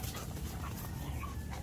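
Several dogs kept together in a house garden whimper and pant close by, a continuous mix of soft breathy panting and thin, high whines.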